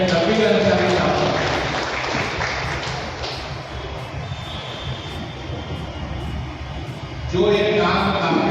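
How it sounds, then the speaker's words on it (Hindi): An audience claps to welcome a guest at a gathering, with the applause loud at first and tapering into a softer wash, then a renewed burst near the end over a noisy background. "मैं आप लोगों से कहूँगा तालियों से इनका स्वागत करें शफीर अंसारी साहब"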